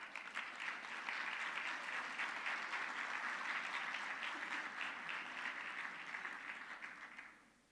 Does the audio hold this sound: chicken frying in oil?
no